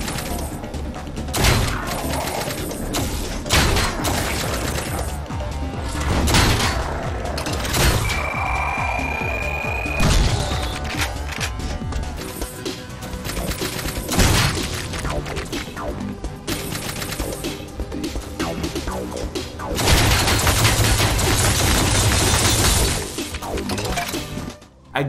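A charged energy weapon in the shooter Ion Fury spraying laser beams, a dense stream of crackling, shattering blasts and explosive bursts with a brief rising whine, loud and continuous.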